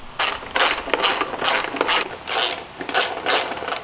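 Ratchet wrench clicking in quick repeated bursts while loosening side panel bolts on a crashed pit bike, close and loud with short pauses between runs.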